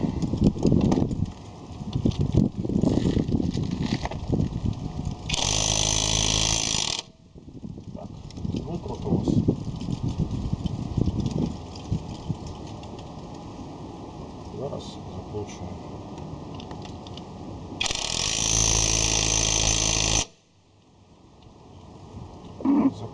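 A cordless impact wrench loosening a nut, heard in two loud sustained bursts of rattling hammering with talk between them.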